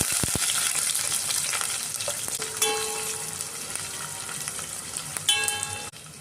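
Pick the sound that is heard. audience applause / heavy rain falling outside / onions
onions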